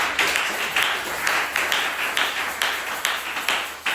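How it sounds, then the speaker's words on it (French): Church congregation at a Tuesday worship service clapping together in a steady, rhythmic beat, crisp hand claps repeating about three times a second, moderately close in a reverberant room. "Applaudissez pour le prophète"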